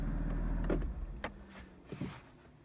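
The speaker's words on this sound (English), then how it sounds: "then I can turn the car off" BMW M4 with DCT transmission being switched off, a low engine hum dying away at the start, then a few clicks and a brief electric whir, quiet and close inside the car.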